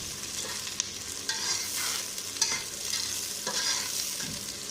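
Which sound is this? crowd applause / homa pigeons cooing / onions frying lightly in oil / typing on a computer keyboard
onions frying lightly in oil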